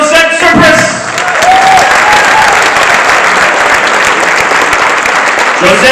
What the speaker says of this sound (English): How about a nice round of applause for our school support staff and people from our transportation center.